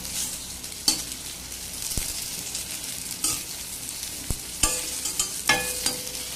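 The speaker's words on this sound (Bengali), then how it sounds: "আর এদিকে বেগুন ভাজা দেখুন একদম সিদ্ধ হয়ে গিয়েছে" Eggplant frying in a little oil in a pan gives a steady soft sizzle, with a few sharp clinks and scrapes of a spatula stirring at intervals, close by and with no talk.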